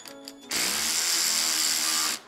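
A budget Alloyman cordless ratchet wrench rated at 60 foot-pounds of torque spins a bolt loose in one steady, loud, high-pitched whir of about a second and a half, close to the mic, after a few faint clicks.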